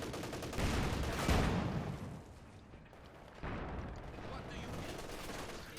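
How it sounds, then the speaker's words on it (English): A field gun firing in the Company of Heroes 2 strategy game, heard as heavy booming blasts and dense battle noise that swell and fade across a busy soundscape. "Field gun firing."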